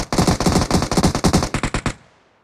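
Loud, close machine-gun fire from the video game PUBG Mobile rattles out as a rapid burst of about twenty evenly spaced shots lasting roughly two seconds, then cuts off with a brief decaying tail.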